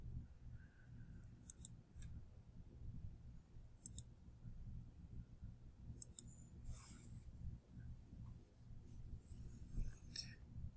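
Several sharp, faint computer mouse clicks come in small clusters over a steady low hum, used to close a spreadsheet pivot table view, spaced a couple of seconds apart with no voice.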